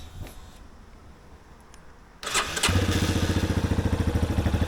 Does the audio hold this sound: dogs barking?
no